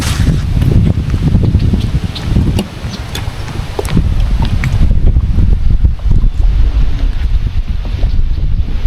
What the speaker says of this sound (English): Holy smokes, it's windy.